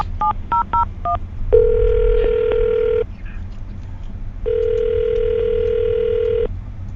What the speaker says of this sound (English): I'm gonna dial her phone number right now